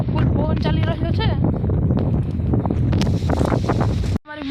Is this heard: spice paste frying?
no